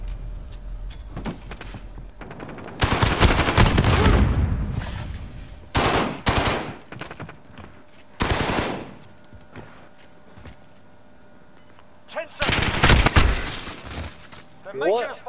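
Guns fire in Call of Duty Modern Warfare tournament play in several loud, close automatic bursts separated by quieter gaps, with a person talking at points in between.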